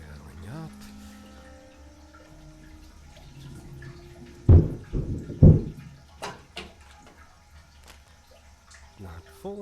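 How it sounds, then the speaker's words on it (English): A toilet in an indie video game flushes with a loud gurgling rush of water, then refills with softer trickling and running water. "Now I can flush it. Filling up."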